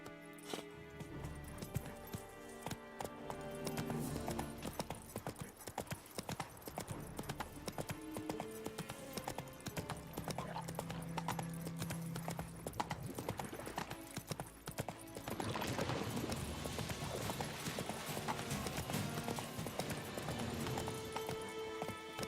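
Rhythmic hoofbeats of the horse Roach galloping in The Witcher 3, steady clip-clop over game ambience and music, growing busier toward the end.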